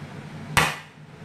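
One sharp, fairly quiet thud rings out as cooking ingredients are smashed on a board before cutting, during preparation of a Thai hot and spicy pork rib soup, over a low steady kitchen hum.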